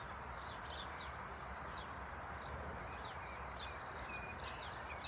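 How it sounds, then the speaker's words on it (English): Faint outdoor birdsong: small birds chirp and trill repeatedly in the distance over a soft, steady background hush. "Listening to those birds."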